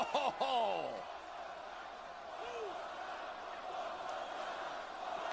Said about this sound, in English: One more time is the call from the crowd.